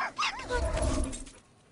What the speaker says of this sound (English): I didn't even know she had a dog.